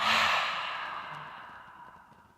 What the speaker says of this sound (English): Open your mouth wide and exhale.